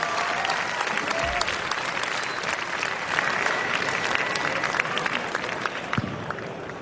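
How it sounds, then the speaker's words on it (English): A large audience at a StarCraft 2 BlizzCon 2008 tournament claps steadily, dense continuous applause filling the hall from start to finish. "All right, so how about a big round of applause for Yellow for winning that first LT match?"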